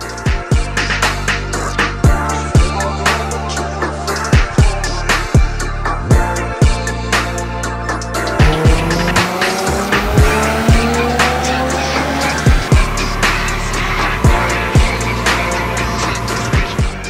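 Nissan 350Z on an E85 tune, running loud and continuous for the whole stretch, with repeated sharp transient bursts and a shift in pitch partway through, like sustained high-rev pulls that build and settle.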